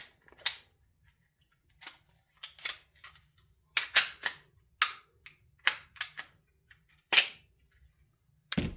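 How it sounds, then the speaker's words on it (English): A Springfield Echelon 9mm pistol being taken apart gives off a string of sharp, close metallic clicks and snaps, spaced irregularly with quiet gaps between them. "I need to take the gun apart, so I'm going to take it off screen for a second to do that"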